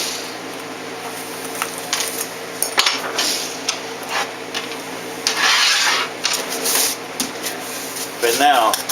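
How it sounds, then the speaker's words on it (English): An X-Acto blade scrapes and pushes screws through a wooden kit panel, giving short rasping scratches and clicks that repeat irregularly up close, with a brief squeak near the end. "I'm just going to take the X-Acto blade and push them through"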